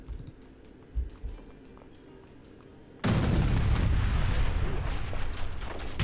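An in-game explosion in Age of Empires III: scattered thuds give way to a sudden loud blast whose rumbling noise fills the rest of the clip.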